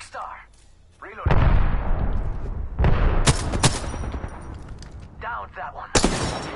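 Bursts of video game gunfire, loud and close, with sharp individual shots and rapid volleys in a live console shooter match, heavy cracks standing out over lulls.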